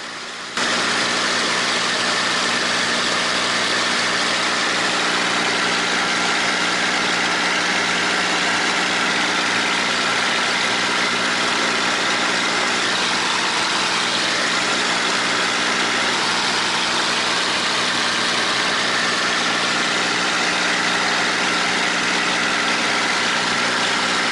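A Spitfire's engine runs steadily in flight after a spark plug change, a loud, continuous drone with a constant tone held without a break.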